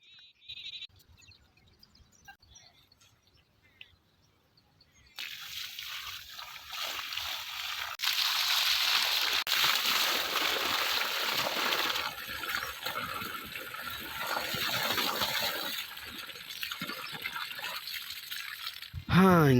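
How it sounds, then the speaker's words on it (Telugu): Water sloshing and pouring from a clay pot onto a tree in a two-acre orchard field, a loud continuous gush splashing onto the ground after a quiet start, with a sheep or goat bleating nearby. "ఇక అన్న ఇట్లా చెట్టుకి కడవుతుంది నీళ్ళు పోస్తున్నా"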